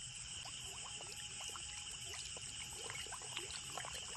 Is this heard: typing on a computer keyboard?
no